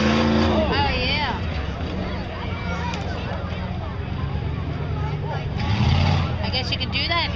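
A racing vehicle roars past at a motorsports park, its engine surging and sweeping in pitch, loud and near, with people talking over it throughout.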